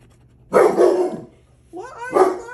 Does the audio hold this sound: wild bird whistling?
no